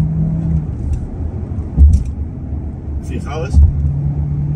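Volkswagen Tiguan 1.5 TSI R-Line pushed hard in Sport mode on a mountain road near Bilbao, a low steady engine rumble from inside the cabin with a couple of surging swells, while someone speaks briefly.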